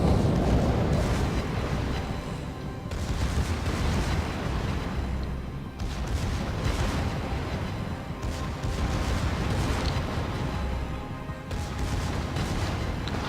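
Secondary battery guns fire and shells strike a ship in World of Warships, a dense, continuous rumble of booms and bursts rising and falling in waves with no pause.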